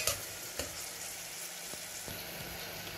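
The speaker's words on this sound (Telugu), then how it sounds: "అవి వేగాక కట్ చేసుకున్న ఉల్లిపాయలు వేసుకోండి." Onions with whole spices such as green chillies, cloves, cinnamon and star anise frying in hot oil inside a pressure cooker for a flat bean curry, giving a steady close sizzle with a few soft stirring knocks and no talk.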